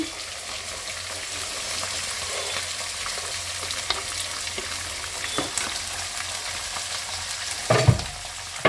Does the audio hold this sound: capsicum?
yes